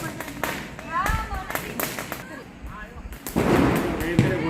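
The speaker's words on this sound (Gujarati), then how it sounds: "ઘરે ઘરે ફટાકડાના અવાજ." Diwali firecrackers burst around homes in several sharp cracks and bangs at uneven intervals, some near and some farther off, mixed with people talking.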